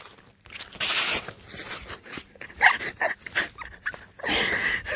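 Dogs at night near a roadside tea stall make short, close growls, snarls and yelps in irregular bursts, with scuffling between them and no talk.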